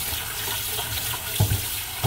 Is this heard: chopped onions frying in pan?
no